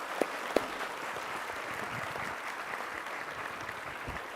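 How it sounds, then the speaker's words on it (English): An audience applauds for the teachers at a Nelson Mandela birthday commemoration. A dense, steady wash of clapping fills a large venue, with a couple of sharper claps near the start, and no voices. "I think they deserve a round of applause."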